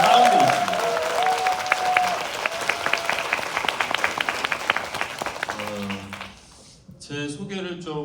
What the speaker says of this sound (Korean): 한번 박수 한번 크게 치고